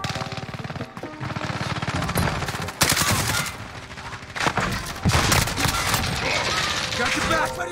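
CR-56 AMAX assault rifle fire in Modern Warfare, rapid automatic bursts loud and close with short pauses between volleys, while someone talks over the shooting.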